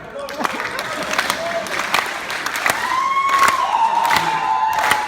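A live audience at a comedy stage show breaks into clapping and cheering, with scattered sharp claps building into a fuller, louder burst of applause and some whoops.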